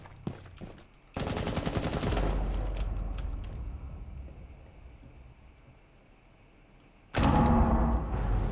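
Gunfire in the video game Rainbow Six Siege: a quick burst of shots, then a sustained automatic volley that fades out, followed by another loud burst near the end.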